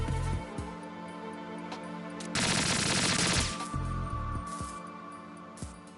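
Sentry guns fire in Metal Gear Solid 2: Sons of Liberty, a dense burst of rapid gunfire over a steady game background hum, lasting just over a second amid scattered quieter mechanical clicks.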